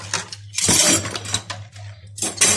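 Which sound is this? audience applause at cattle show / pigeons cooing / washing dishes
washing dishes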